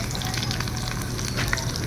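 Food fries in cooking oil with a dense, steady crackling sizzle, close and even throughout, with no voices.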